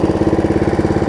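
A Snapper RER riding mower engine idling, a loud, close, steady single-cylinder putter with an even rapid pulse and nothing else heard.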